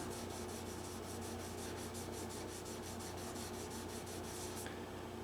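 Fine sanding of a black sparkle finish on a Guild D25 acoustic guitar with an 800 grit Kovacs block, a steady rhythmic rubbing rasp with regular back-and-forth strokes, close and continuous, no talking.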